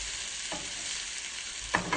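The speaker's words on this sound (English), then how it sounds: "Just gonna mix everything into the oil." Vegetables are stirred through hot oil in a pan for a Ragusan tripe dish, with a steady sizzle and a few scraping stirs, the loudest near the end, and no voices.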